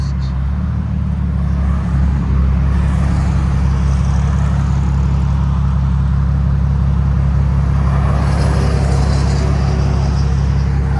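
Infiniti G37 coupe with a Z1 Motorsports cat-back single exhaust driving in traffic, a constant loud low exhaust drone and engine hum from inside the car, with occasional rises in revs.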